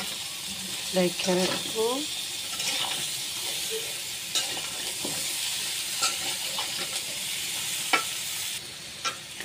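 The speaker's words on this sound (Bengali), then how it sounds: "এখন আলু পটলগুলো দিয়ে দিব। ভালো করে নাড়ি ছেড়ে" Potatoes and pointed gourd fry in a pan with rohu fish while being stirred, giving a steady sizzle broken by scraping and clattering stir strokes. A voice speaks briefly over the cooking.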